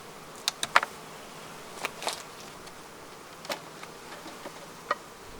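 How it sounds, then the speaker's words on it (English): Faint honeybee buzzing at an opened hive with scattered brief ticks and taps against a quiet background, a few louder close passes standing out. "Apparently I've angered the bees because they are on me now."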